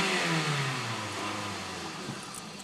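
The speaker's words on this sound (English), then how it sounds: "I just installed the HPS intake, the short ram intake. This is what it sounds like from the inside." A Scion tC fitted with an HPS short ram intake revs from inside the cabin, a steady engine drone climbing and settling in pitch over a few seconds, loud and close.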